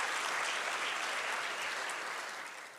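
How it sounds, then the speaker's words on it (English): Applause from an audience at an education district awards and inauguration ceremony, a steady, even roar of many hands clapping together that tapers off slightly at the end. "I just want to give Ntate Khobe a big round of applause"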